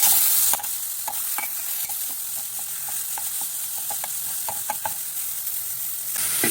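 Onion paste frying in a pan with a steady sizzle, broken by frequent short scraping taps of a spoon stirring it, close and alone with no voices.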